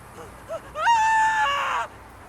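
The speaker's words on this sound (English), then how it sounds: "You're hearing the occasional scream." A short, shrill scream from a Saints Row video game character rises and holds for about a second over quiet background noise, with a brief yelp just before it.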